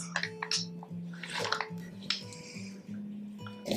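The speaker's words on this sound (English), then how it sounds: "Gonna add some water in there. Pour it in my food processor." Water poured from a cup into a food processor holding soil-blocking mix for sowing snapdragons, a close trickling splash with clinks and knocks against the bowl, over a low steady hum.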